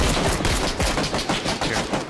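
Dense, continuous automatic gunfire from PlayerUnknown's Battlegrounds (PUBG), a loud rapid burst of shots running unbroken for about two seconds with no voices over it.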